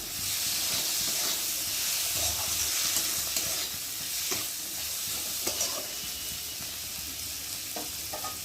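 Turmeric powder and tomato frying in a pan with steady hissing sizzle and scattered scrapes of a spoon stirring, close and continuous with no talk.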